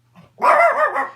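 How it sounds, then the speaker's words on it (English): A puppy lets out one loud, close bark after a faint little whimper, short and sharp, alone with no talking. "Excuse my puppy barking"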